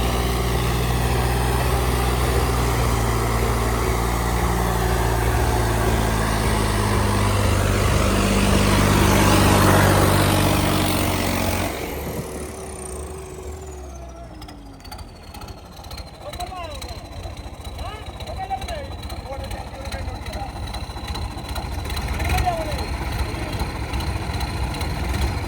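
A Swaraj tractor hitched to a trolley pulls out in heavy rain, its engine a loud, low, steady chug that drops back to a quieter running rumble partway through, with people talking nearby.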